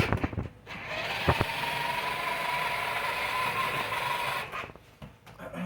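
A small electric motor whirs steadily as a vintage 1988 New Bright remote control fire truck with broken steering moves, faint and thin, framed by a few clicks at the start and end.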